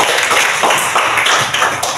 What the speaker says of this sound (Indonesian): terima kasih dan tepuk tangan kepada Anda